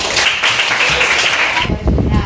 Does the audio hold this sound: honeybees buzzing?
no